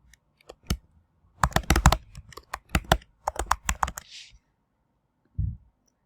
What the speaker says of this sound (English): I can type directly into that